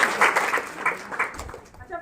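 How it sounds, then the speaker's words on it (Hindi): Schoolchildren clapping for a classmate in a classroom, a burst of scattered applause that fades out toward the end. "ताली बच्चे के लिए"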